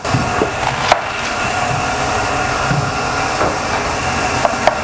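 A knife cuts thin shreds of red cabbage on a board in a steady series of crisp chops and scrapes, with a few sharper knocks against the wood and no voices.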